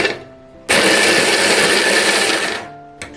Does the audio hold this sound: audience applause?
no